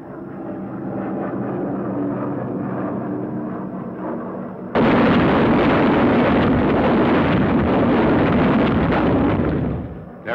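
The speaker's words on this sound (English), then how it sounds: "Another drop of the jellied gasoline bombs." Jellied gasoline incendiary bombs, M69 type as used in the fire raids on Tokyo and Nagoya, fall and burst in a loud, continuous roar with heavy rumbling, a low engine-like drone first giving way to a sudden sustained blast of noise.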